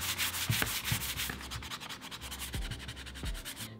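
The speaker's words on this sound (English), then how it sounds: "So I'm gonna lightly sand over these." A 220-grit sanding sponge is rubbed lightly over chippy milk paint and a stencil in quick back-and-forth strokes, a close, soft scratchy sound with no talking.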